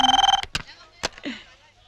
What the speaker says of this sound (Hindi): अरे, इसकी तो फिर से फोन आ गया इसका।